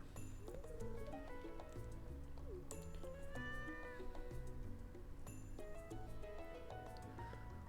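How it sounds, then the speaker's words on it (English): Meows from Limert the cat during a Stardew Valley game stream, repeated cries heard over steady game music with chimes and tones that run throughout. "We have Limert the cat."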